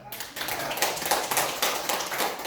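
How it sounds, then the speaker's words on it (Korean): An audience at a Korean religious lecture claps briefly, a dense patter of hand claps lasting a couple of seconds at moderate volume. "박수 한번 치세요."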